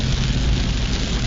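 Rain falls on the windshield of a Maruti Suzuki XL6 driving along a hilly road, a loud, steady hiss of water and road rumble with no talking.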